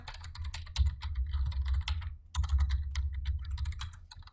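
Fast clattering keystrokes on a computer keyboard, close and busy, with dense bursts of clicks broken by one brief pause midway; no one speaks.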